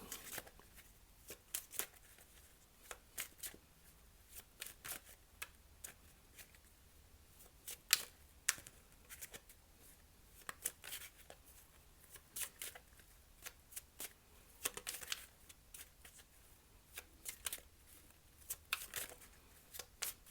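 A deck of tarot cards is shuffled over and over at close range, soft riffling and flicking in irregular bursts with quiet pauses between, no voices.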